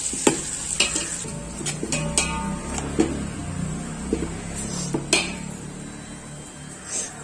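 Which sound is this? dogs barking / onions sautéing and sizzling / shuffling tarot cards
onions sautéing and sizzling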